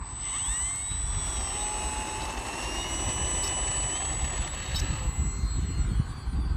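An Arrows P-51 Mustang RC model plane takes off, its electric motor giving a steady high-pitched whine over a continuous rushing roar of wind and ground noise outdoors.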